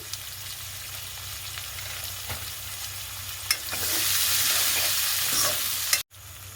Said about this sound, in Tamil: இந்த உப்பை சேர்க்கிறதால வெங்காயம் கொஞ்சம் வேகமாக வதங்கி வரும்